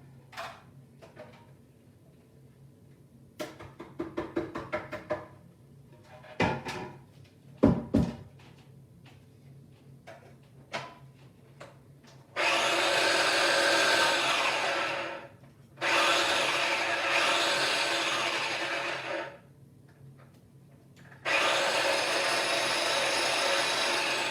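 Clattering and knocking give way to a kitchen appliance whirring loudly in three long bursts while mixing cashew flour for lemon date protein bites, with short pauses between runs.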